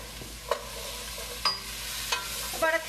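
Celery and carrots tossed into sautéed onions in a soup pot for chicken soup, a soft ongoing sizzle with a few sharp clanks and scrapes of a spoon against the pot.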